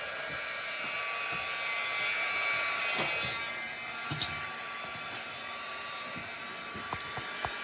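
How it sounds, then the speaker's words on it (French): A Stampin' Up heat tool dries ink on a craft project, sending out a continuous, close, whining blow of air that holds steady for about eight seconds with a few small clicks. "On a un super de bon séchoir avec Stampin' Up."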